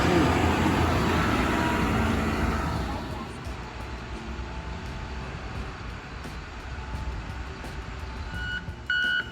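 A big front end loader backing up, loud diesel rumble at first easing off while a steady series of reversing beeps pulses through, close by outdoors.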